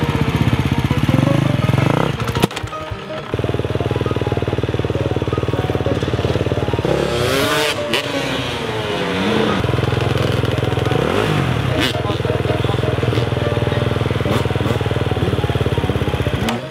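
A motorcycle engine revs loudly and repeatedly, rising and falling in pitch, with a brief cutout early on and a rough idle between revs.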